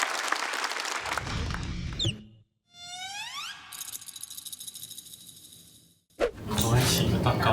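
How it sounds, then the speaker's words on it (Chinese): On a stand-up comedy stage, the audience welcomes comedian Lin Jianqi with applause. The clapping is loud at the start, then gives way to rising, swooping electronic tones and music before bursting back in strongly at the end. "掌声有请林简七"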